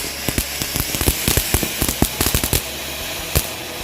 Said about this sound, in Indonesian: Untuk yang pertama kita nyalain mercon barongsai jumbo